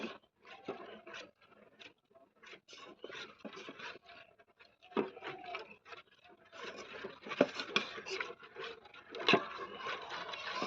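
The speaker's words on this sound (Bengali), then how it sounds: "আর একদিকে অনবরত লাড়তে থাকবো যাতে তলায় দলা না পেকে যায়" Rice flour batter for chitoi pitha stirred constantly in a pot, heard as soft, irregular scraping and tapping strokes at close range, fairly quiet, with no speech.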